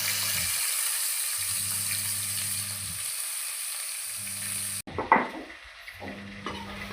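Onion and tomato sauté in oil with fennel seeds and mustard seeds in a pan for a chicken dish, a steady close sizzle under a low intermittent hum, then a clatter and stirring scrapes as the frying continues.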